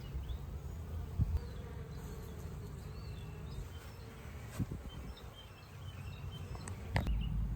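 Honey bees from Hawaiian queens swarm around stacked, staggered hive boxes on a farm, a soft continuous low buzz with individual bees droning close past the ear now and then, and a few faint bird calls outdoors.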